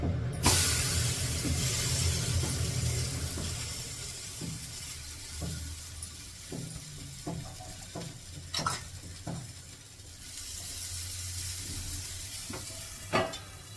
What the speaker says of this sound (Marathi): आता थोडस बारीक असं खरपूस भाजून घेते